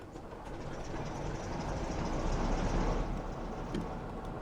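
A Class 45 diesel locomotive engine rumbles low and steady, a continuous deep droning throb that holds at a moderate level without pauses.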